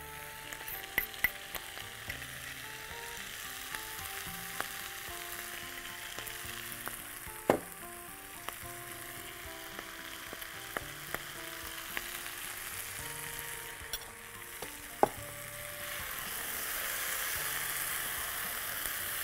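Meat seasoned with salt, pepper and spices for vindaloo fries quietly in a pan, a soft continuous sizzle broken by scattered sharp clinks of a utensil against the pot.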